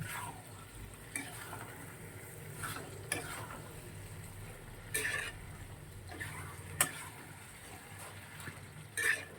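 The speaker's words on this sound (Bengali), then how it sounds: "সোয়াবিনটা রেখে দিয়ে দিলাম, একটু ভালো করে নাড়াচাড়া করে ঢেকে দেবো।" Soybean curry is stirred in a pan with soft intermittent scrapes and clinks of a spoon against the metal over a faint low simmering hiss, quiet and close.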